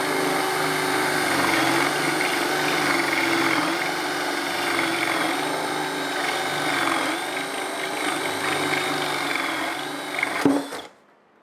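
A Ryobi 18V brushless compact right angle drill runs with a 3 amp-hour battery and a 1 inch fastener bit, whining loudly and continuously with a wavering pitch before cutting off abruptly near the end.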